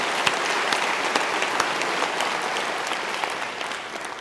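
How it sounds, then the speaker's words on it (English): Reunion audience applauding at a university state-of-the-university address, a dense, steady wash of many hands clapping at full strength throughout, easing slightly near the end. "give yourself a round of applause"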